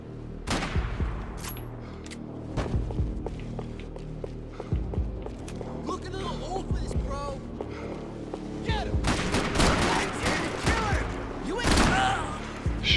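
Rapid gunfire in the shooter game Max Payne 3, scattered sharp shots and bursts over a busy background of footsteps, music and effects, with voices speaking at times.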